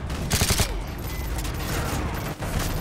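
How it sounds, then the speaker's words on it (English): AK-47 gunfire in Call of Duty Modern Warfare 3, a quick rapid burst of loud close shots followed by distant crackling battle noise and scattered reports. "I really do like the sound of the AK"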